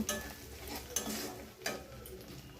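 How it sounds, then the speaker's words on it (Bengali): Spice paste with salt fries lightly in a pan, giving a low close sizzle under a few sharp spatula scrapes and stirring knocks against the metal. "মশলাটা আমি একটু হালকা করে ভেজে নেব"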